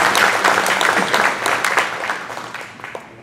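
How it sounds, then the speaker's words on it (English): Audience at a New Orleans-area high school state football championship coaches event applauds in steady, dense clapping that slowly fades out over a few seconds. "So a quick round of applause for those two gentlemen"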